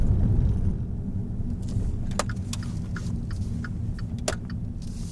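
A car drives along rough road surfaces in Petaluma, California, giving a continuous low rumble from inside the cabin with occasional sharp rattles and jolts from bumps.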